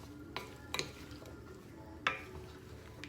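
Vegetables for split pea soup sauté without liquid in a pot, giving a soft steady sizzle broken by a few sharp utensil clinks and scrapes against the pot while being stirred.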